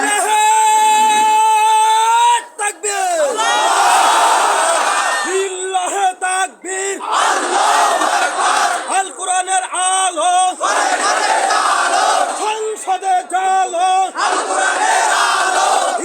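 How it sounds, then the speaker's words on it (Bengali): A crowd at an Islamic waz sermon in Bogura, Bangladesh, shouts takbir in response to a leader's call. A single voice chants first, then the massed crowd roars back loudly in repeated, rhythmic waves of shouting. "প্রথমে দেন তো সবাই লিল্লাহি তাকবীর"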